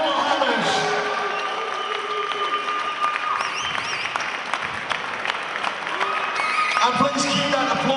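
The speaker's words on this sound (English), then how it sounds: "please keep that applause going for our runner-up from Denmark, Rasmus Benson" Crowd at an MMA event applauding steadily and loudly for a lightweight world title runner-up from Denmark, with scattered cheers and whistles over a dense, continuous clapping roar; a voice speaks over it.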